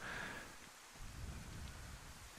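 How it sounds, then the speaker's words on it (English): Rain and thunder in the DayZ survival game at night: a steady hiss of rainfall fills the clip, with low rumbling thunder rolling underneath. "I'm just not that keen on going out in this rain"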